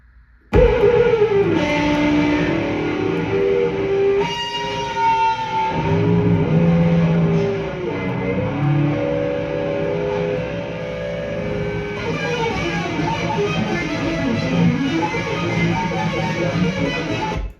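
Loud, melody-free freeform electric guitar noise from a 1969 debut album churns with shifting distorted tones, scrapes and swells, continuous throughout with no vocals.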